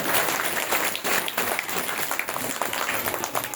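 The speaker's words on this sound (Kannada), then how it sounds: "ಅವರಿಗೆ ಜೋರಾದ ಚಪ್ಪಾಳೆಯನ್ನ ತಟ್ಟೋದ್ರ ಮುಖಾಂತರ" Loud, sustained applause from a crowd at a religious discourse gathering, thanking the volunteers of the prasad service, with dense clapping filling the space continuously.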